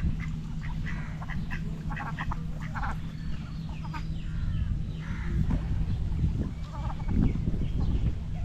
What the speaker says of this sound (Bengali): এখানে ছোট্ট একটি পুকুর পাড়, সেই পুকুরে হাঁসগুলো গোসল করছে।